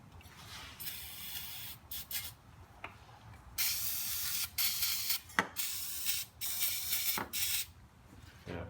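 Bursts of aerosol mask spray hiss onto parts of a turbocharged Toyota Supra under build, several short and longer sprays broken by quiet gaps, close and fairly faint in a quiet workshop.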